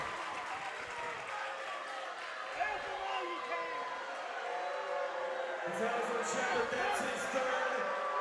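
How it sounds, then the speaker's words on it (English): A high school basketball crowd at a boys district tournament final in a gym, North Laurel vs. Clay County, reacts to a reach-in foul call with scattered shouting and murmuring, under a commentator's talk. "And I don't think the crowd liked that one very much."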